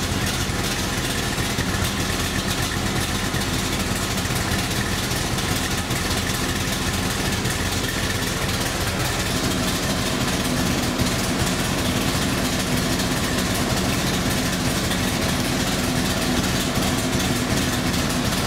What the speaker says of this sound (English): Brings it down to where you can really hear the idle.